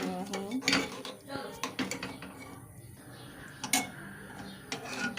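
Sugar is stirred into vermicelli in a pot, with repeated clinks and scrapes of a spoon against metal at an irregular pace and faint room sound between the knocks.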